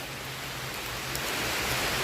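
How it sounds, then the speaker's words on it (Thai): Heavy rain pours steadily through a forest during mushroom picking in Thailand, a dense, even hiss of drops on leaves and ground that holds constant and close throughout, with no voices. "ได้ยินเสียงฝนมาบ่พี่น้อง"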